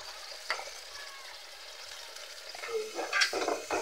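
Papaya is stirred in a pan for ginisang papaya, a low sizzling hiss broken by a few scraping stirs, clearer and busier toward the end, close and moderately quiet.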